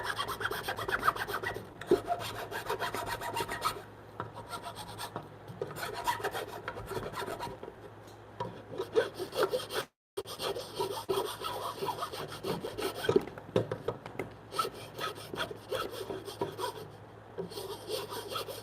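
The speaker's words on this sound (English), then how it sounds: "I'm just sanding it a little bit so that whatever kind of wood that's sticking up doesn't want to catch when I try to slide the tenon in" Hand sanding of a wooden joint so a tenon slides into its mortise: continuous close rasping strokes in uneven bursts with a few short pauses, no voice.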